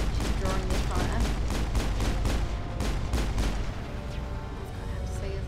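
Rapid bursts of gunfire crackle in a Mass Effect firefight, a dense run of sharp shots over a rumbling background that thins out toward the end.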